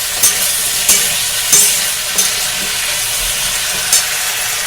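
Potatoes for a kachori-shop-style potato curry are sautéed in a pan, with a steady sizzling hiss and regular stirring scrapes roughly every half second to second, close and clear.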